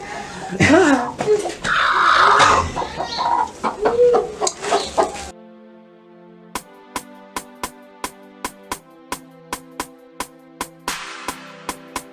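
Chickens cluck and squawk close by in the first few seconds, mixed with people talking and laughing, before the scene cuts to a run of sharp, evenly spaced musical hits.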